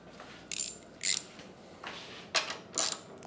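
Ratchet wrench loosening 10 mm bolts on the engine cover of a McLane edger, heard as four short bursts of quick clicking spaced about half a second to a second apart, close up with no talking.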